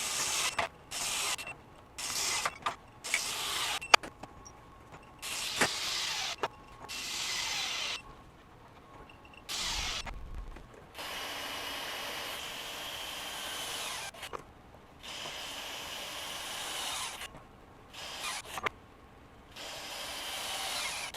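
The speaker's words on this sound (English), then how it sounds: "We're going to let the impact wrench hammer away or impact away at the fastener for up to 10 seconds." A DeWalt DCF961 20V high-torque cordless impact wrench hammers a fastener in loud bursts: quick stuttering blasts at first, then longer sustained rattling runs separated by brief pauses.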